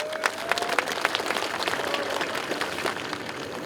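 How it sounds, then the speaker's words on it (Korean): Applause from a crowd at an outdoor statue unveiling ceremony for President Park Chung-hee, a steady dense patter of many hands clapping at moderate distance with no voices over it. "이분에게 박수 한번 쳐주시기 바랍니다"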